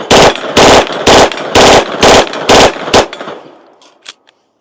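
An MP5K submachine gun fires at a man-sized target from 40 yards in seven loud, close, evenly spaced bursts, followed by a fading echo and one faint trailing click.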